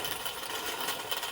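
Looping metal slide sound effect from the Teardown video game, a steady, hissy scraping texture that runs continuously without pauses for just over a second at low volume.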